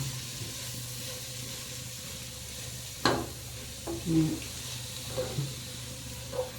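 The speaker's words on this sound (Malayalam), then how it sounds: "സവാള നല്ലതുപോലെ എണ്ണയിൽ കിടന്നൊന്ന് വഴന്ന് നല്ലൊരു സവാളയ്ക്കൊരു നല്ല ഗോൾഡൻ കളറാവണം." Onions with a pinch of turmeric cook in oil in a pan, a low, soft sizzle broken by a few scattered clinks and scrapes of a spoon, fairly quiet overall.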